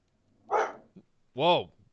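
Two short bark-like yelps, the second louder and more tonal, with a brief gap between them, close and clear; a human voice appears to be imitating a dog's bark.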